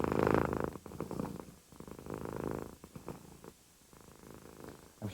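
A cat purrs loudly and steadily while paddling on a person's chest, the close, rumbling purr rising and falling in long breaths with short pauses between them.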